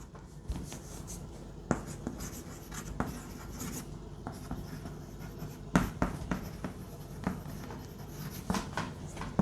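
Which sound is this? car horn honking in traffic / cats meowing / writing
writing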